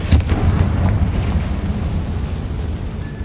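A Confringo fire spell explodes in the Hogwarts Legacy game, a sudden deep boom at the start followed by a rolling, fading rumble of fire and debris over about three seconds.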